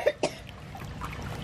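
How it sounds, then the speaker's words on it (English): Two quick, sharp coughs sound near the start, close and fairly loud, followed by quieter room noise and faint trickling. "I hear coughing"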